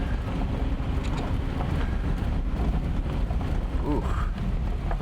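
An old Nissan Z with stiff gearbox and ancient transmission fluid pulls away in second gear, its deep engine rumble loud and constant under wind buffeting, with a voice over it.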